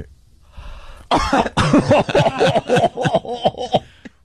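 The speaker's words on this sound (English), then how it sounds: "he started like kind of gagging and coughing" Someone gags and coughs in a rapid series of harsh, choking bursts, close and loud after a brief quiet start.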